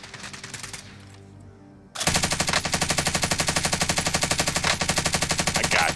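Rapid automatic gunfire from the video game Call of Duty Vanguard, a loud sustained burst of evenly spaced shots following a few seconds of quieter game sound.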